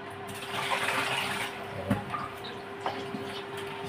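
Water gushes into a cooking pot for chicken tinola with papaya, a fairly close, steady pouring rush broken by a couple of light knocks.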